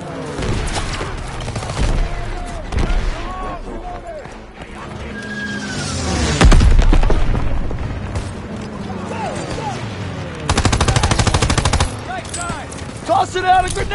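Call of Duty WWII combat: loud bursts of machine-gun and rifle fire with a heavy grenade blast around the middle, a dense rattling barrage near the end, and shouting voices over the battle throughout.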